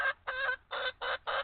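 Chickens cluck in the Farming Simulator 25 video game, giving five short bursts in an uneven rhythm, close and clear, with no talking.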